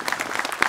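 Brief applause from an audience at a Tamil film event honoring the director of the film Byri, a dense burst of many hands clapping close by with one sharper clap standing out near the end.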